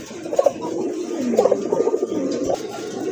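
Large domestic pigeons coo steadily at close range in a busy loft, their soft repeated burbling calls rising and falling over a constant background hum.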